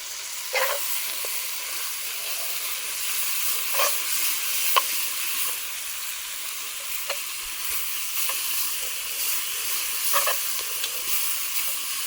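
Tomato paste cooks in a pot with a steady hiss and sizzle, broken by a few brief scrapes and stirs.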